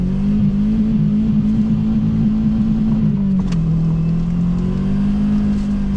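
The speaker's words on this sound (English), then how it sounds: "I'm gonna insert some clips of us drifting this thing around in the snow." A 2002 Subaru Impreza drifting in the snow produces a loud, steady engine drone close by, holding nearly constant pitch with a slight dip midway, with no speech.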